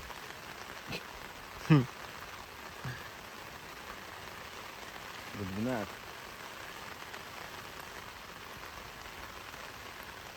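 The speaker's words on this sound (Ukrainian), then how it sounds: "Дощ не стихає. Такий валить." Steady rain patters continuously in a soft, even hiss by a river during feeder fishing, with a couple of brief voices breaking in.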